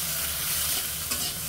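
Potatoes fry in a pan with a steady close sizzle while a utensil stirs them, scraping and shuffling continuously, with no voices over it.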